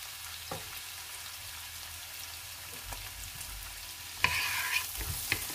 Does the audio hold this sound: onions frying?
yes